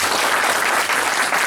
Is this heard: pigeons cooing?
no